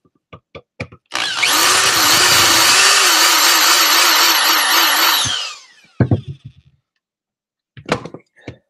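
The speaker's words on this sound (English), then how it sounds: "Right here, I'm going to drill this one out." Power drill boring out a spot on a Kydex pistol holster, a loud close whirring run of about four seconds with wavering pitch, framed by scattered clicks and handling knocks.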